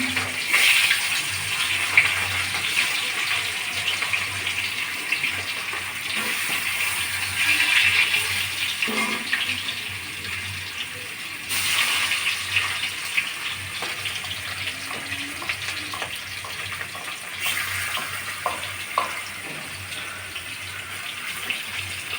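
Pieces of rohu fish fry in hot oil with a steady, dense sizzle that holds for the whole stretch, rising slightly at moments and carrying on close and fairly loud with no talk.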